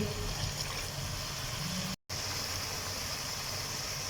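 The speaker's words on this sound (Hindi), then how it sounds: "इसके अंदर हम थोड़ा सा पानी भी शामिल करेंगे।" Water pours steadily into a cooking pot of daal mash with tomatoes and spices, a continuous gushing splash, broken by a brief cut midway.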